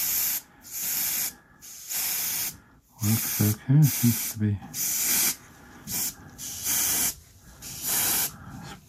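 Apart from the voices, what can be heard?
Harder and Steenbeck airbrush spraying paint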